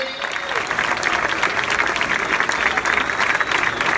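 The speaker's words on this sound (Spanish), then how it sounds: "Fuerte aplauso" An audience at a kizomba dance show in Madrid applauds loudly and continuously, a dense, steady wash of clapping from a crowd that holds at full strength throughout.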